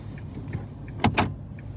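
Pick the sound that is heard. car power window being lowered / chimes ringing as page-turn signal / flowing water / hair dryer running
car power window being lowered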